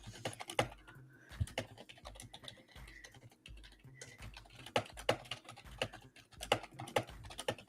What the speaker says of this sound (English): Can you hear me typing, Siren?